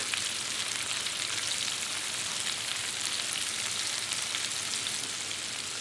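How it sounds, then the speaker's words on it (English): Green and red capsicum frying in a pan for a chilli meatball sub, with an even, dense crackling sizzle that holds steady and fairly faint throughout. "So now I'm going to toss in some of the capsicum, get that cooking, some of the green, and some of the red"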